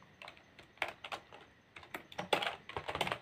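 Close-up clatter of a computer keyboard as code is typed, quick irregular bursts of keystrokes with short gaps between, no voices.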